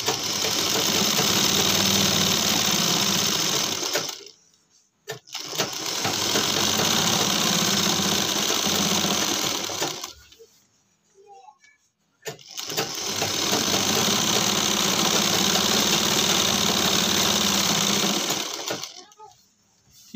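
A sewing machine runs in three long bursts of steady whirring stitches while sewing the lining of a size-32 pant belt, each run lasting about five seconds with short quiet pauses between them.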